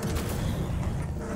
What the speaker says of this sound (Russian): Мне интересно, что там за чуваки такие стреляются. Потому что они, смотри, чем стреляют. Какими-то лазерами.